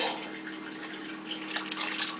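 Milk pours into a pan of homemade gravy for Salisbury steak in a continuous close trickle of liquid that swells slightly louder toward the end, with no voices over it.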